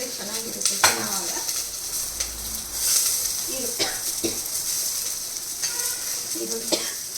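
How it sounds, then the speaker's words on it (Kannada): Sliced onions go into a hot pan and fry with a steady sizzle, broken up by stirring scrapes and a few clinks of a utensil against the pan throughout. "ಹಾಕ್ಬಿಟ್ಟು ಈಗ ಸ್ವಲ್ಪ ಈರುಳ್ಳಿ ಹಾಕೋಣ."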